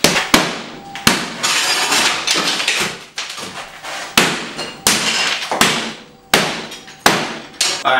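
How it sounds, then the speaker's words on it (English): An old floor being scraped up with a small hand scraper, giving sharp repeated impacts and cracking bursts about once a second, each fading before the next, loud and close. "So you just get a little old scraper here."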